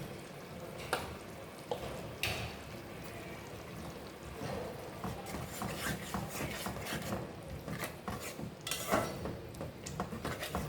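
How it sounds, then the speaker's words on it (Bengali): Ground masala of turmeric, cumin, chili, coriander, garam masala, salt and black pepper sizzles in a pan while a spatula scrapes and stirs it in repeated close strokes. "এখন মশলাগুলো ভালো করে কষে নেব"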